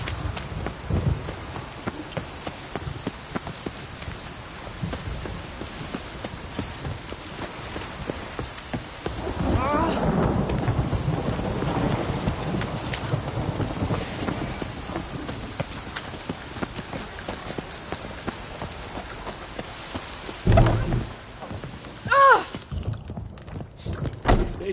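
A video game thunderstorm brings steady, loud rain hissing and pattering on surfaces, with a rolling swell of thunder partway through and sharper claps near the end, with some faint clip-clop and a few voices.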